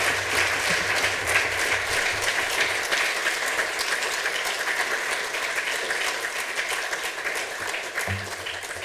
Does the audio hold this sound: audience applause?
yes